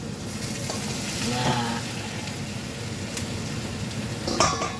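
Celery dropped into a hot pan sizzles loudly and steadily throughout, a dense frying hiss with a few brief crackles and stirring scrapes near the end.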